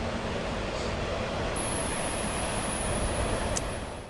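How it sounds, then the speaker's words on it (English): A freight train rolls past in a steady wash of rumbling noise. A faint high whine runs through it, and the sound tapers off at the end as the train moves away. "Okay, the train's gone by."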